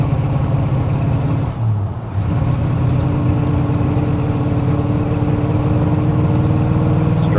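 A 1983 Chevrolet C10 Squarebody engine held at full throttle while flooding out, a loud, close, steady droning roar that holds throughout with only a brief dip partway.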